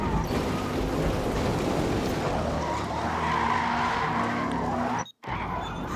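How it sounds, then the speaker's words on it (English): Tires on a Chevrolet C8 squeal and skid continuously in the racing game Forza Motorsport, a loud sustained screech over engine drone that cuts out abruptly near the end, then briefly resumes. "the tires are just squealing the whole time"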